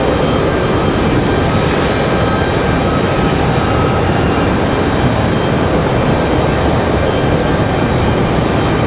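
Steady loud broadband roar of a CRJ jet idling near the runway end before departure at Raleigh-Durham International airport, with a constant high whine on top and no pauses.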